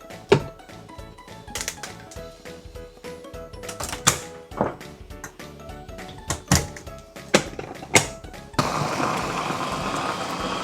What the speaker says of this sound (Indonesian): Nah ini sekarang saya akan giling dulu sampai dia halus.